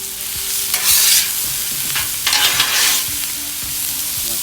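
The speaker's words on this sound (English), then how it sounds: "This tells you your grill is nice and ready. And now put down the potatoes." Potatoes dropped onto a hot grill at a Fourth of July brunch give loud, close sizzling that rises in several bursts as they are stirred and turned, with crackling hiss throughout.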